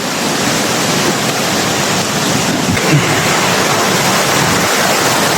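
A 120-foot waterfall in Maragusan, Davao de Oro, roars as a dense, steady rush of falling water, loud and continuous with no voices.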